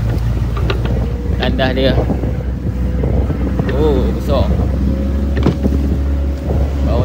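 A wooden fishing boat's motor runs on open water with a low, steady drone under gusting wind. Several people talk and call out over the engine throughout.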